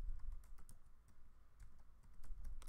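Soft, quiet typing on a computer keyboard while writing a Bootstrap form, with scattered key clicks in an uneven rhythm and no talking.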